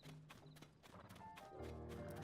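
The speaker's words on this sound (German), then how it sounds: "Oh, Pferde." Horses in Zelda: Tears of the Kingdom clop their hooves in quick irregular knocks, with a short whinny and snorting sounds mixed in, fairly close and quiet.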